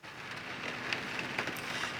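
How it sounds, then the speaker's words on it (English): Pouring rain makes a dense, even hiss with faint scattered drop ticks throughout, with no talking. "Can you hear the rain? It is just pouring here today."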